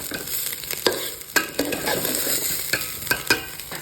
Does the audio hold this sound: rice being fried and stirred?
yes